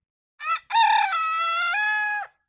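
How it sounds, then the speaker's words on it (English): A small rooster crows nearby, a short clipped note followed by one long, loud, wavering call, with no other sound around it. "He's a gorgeous little rooster, but he is a little guy. Which, if you hear him crow, you can tell."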